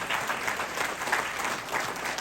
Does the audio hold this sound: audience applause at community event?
yes